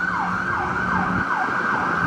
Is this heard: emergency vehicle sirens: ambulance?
yes